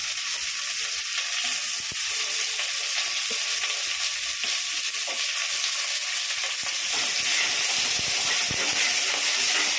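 Sliced onion and green chilli fry in a pan, a continuous bright hissing sizzle held at an even level throughout, close by and without speech.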